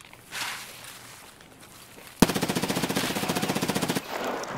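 Gunfire in the video game Escape from Tarkov: a single sharp shot, then a rapid automatic burst of about twenty evenly spaced rounds, loud and close, ending abruptly into quiet background.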